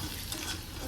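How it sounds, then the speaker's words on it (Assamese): Onions frying in a pan give off a brief, faint, steady sizzling hiss with no talking. "এতিয়া এই পিঁয়াজখিনি অলপমান ভাজি ল'ব লাগিব"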